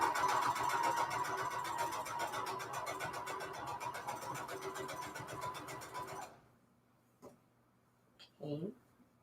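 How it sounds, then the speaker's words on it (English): A sewing machine stitches along a fabric edge for a junk journal cover made from Christmas fabric scraps, running in a loud, rapid, steady whir for about six seconds before stopping, followed by a few faint clicks and rustles. "Sewing along the edge of this fabric"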